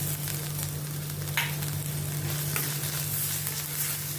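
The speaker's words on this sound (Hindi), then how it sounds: "इसमें मैं ये हाफ बारीक कटा हुआ प्याज डालती हूँ।" Finely chopped onion sautéing in a pan, a steady close sizzle with a few soft stirring scrapes and no talking.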